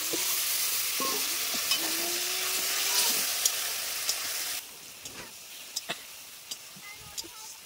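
Scored boiled eggs dropped into hot oil for egg curry, sizzling and hissing strongly at first, then the frying drops to a quieter crackle punctuated by clicks of a spatula.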